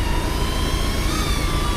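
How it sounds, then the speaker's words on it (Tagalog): A small drone flies overhead in strong wind with a steady, high, whining buzz of rotors, constant and fairly close, with no voices. "nagpapalipad tayo ng drone natin"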